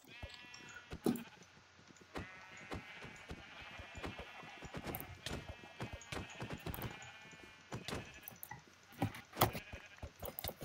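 Sheep in a video game bleat repeatedly over a busy background of rapid clopping and clicking footsteps, the calls overlapping at a steady, moderate loudness without speech.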